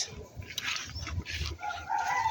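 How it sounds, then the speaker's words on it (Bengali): Layer hens cluck and a rooster crows on an agro farm in Companiganj, Noakhali, with the calls coming at moderate distance over a steady outdoor background. "লেয়ার মুরগি"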